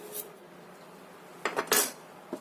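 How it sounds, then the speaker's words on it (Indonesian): Shallots, garlic, candlenut and pepper are pounded with a mortar and pestle, giving a few close, hard knocks and scraping clatters that come in a short cluster after a quiet stretch, with no voices. "Ini kita ulek sampai halus dahulu ya."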